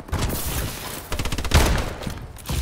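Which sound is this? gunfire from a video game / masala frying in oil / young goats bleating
gunfire from a video game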